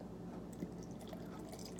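Milk poured into a jar of overnight oats with blueberries, a faint steady liquid trickle with small dripping splashes running throughout, close and quiet, with no talking.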